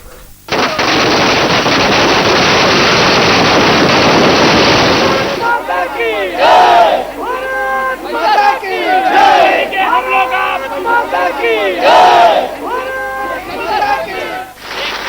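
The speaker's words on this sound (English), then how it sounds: "Firecrackers burst," Firecrackers burst in a dense, rapid crackling barrage for about five seconds at a celebration at Chhatrapati Shivaji Terminus, followed by a crowd shouting and chanting loudly.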